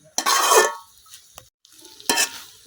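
Fish roe mixed with potatoes being fried and stirred in a pan for a village-style dish, giving two short, loud bursts of scraping sizzle separated by a quieter pause.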